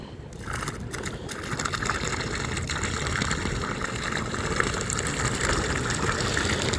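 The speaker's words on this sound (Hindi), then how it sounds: "पानी इसके अंदर जा रहा है, मसाले के अंदर" Water gushes steadily into a mortar mix on a building site, a continuous loud rushing and splashing with a motor or pump humming underneath.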